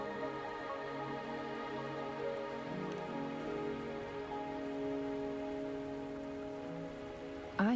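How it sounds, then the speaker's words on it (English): Steady rain falling in the video game Wuthering Waves, a soft, even patter that runs unbroken throughout with no voices over it. "Are you trapped here by the rain?"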